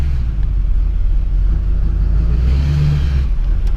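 Car slowly reversing into a crowded shop driveway, a steady low engine rumble close by with a slight rise in tone near the end.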